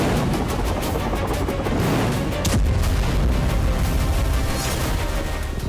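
Explosions at missile launchers produce loud, continuous rumbling booms with a sharper blast partway through, heavy and sustained with no voices.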